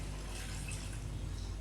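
Water pours steadily into a pan of Punjabi chicken curry, a short continuous splashing fill with no talk.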